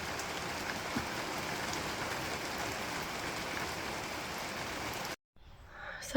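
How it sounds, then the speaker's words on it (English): Steady rain drums on the roof of a communal allotment shed, heard from inside as a dense, continuous hiss with scattered drips, then it cuts out abruptly near the end. "it's nice to hear the sound of the rain."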